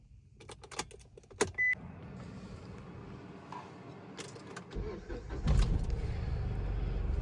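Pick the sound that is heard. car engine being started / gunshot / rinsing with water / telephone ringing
car engine being started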